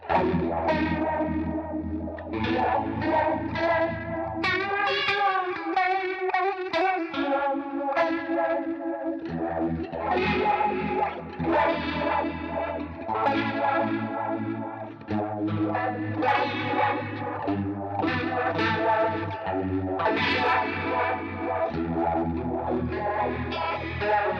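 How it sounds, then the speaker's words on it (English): Guitar played through a multi-effects unit on a rotary-speaker style patch, its sustained chords swirling and warbling with a touch of drive and echo, loud and alone without any talking. "Nice rotary type effect on this one."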